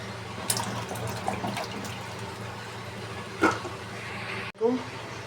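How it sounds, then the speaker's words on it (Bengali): Okra being rinsed under running tap water in a home kitchen, a soft steady stream with occasional splashes and a brief handling clatter, while someone talks over it. "ভেন্ডিগুলো রান্না করার জন্য ভাজি করব, তার জন্য একটু ধুয়ে নিতেছি।"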